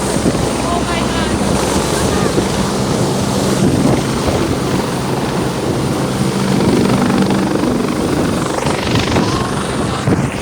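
A helicopter flies nearby behind the microphone, a loud, continuous broadband rotor roar with wind buffeting that stays steady throughout.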